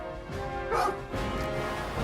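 A man imitates a dog barking with his voice, giving a few short, loud woof-like calls in quick succession with other voices and background noise around them.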